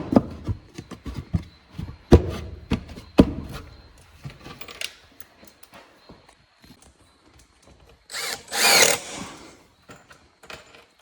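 A power drill drives screws into wooden bee box parts: scattered knocks and clatter of handling wood, then one short loud burst of drilling near the end, close by.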